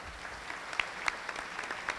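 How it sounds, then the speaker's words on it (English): Sparse applause from a large morning business networking crowd greeting an award recipient, a few distinct claps over a faint, thin wash of hands. "Give her a huge round of applause."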